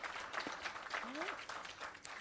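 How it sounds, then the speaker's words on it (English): Applause from the audience at an employee service awards ceremony, a steady wash of clapping that sits under a voice sliding up in pitch and fills the full stretch at a moderate, slightly distant level. "Let's keep the applause going."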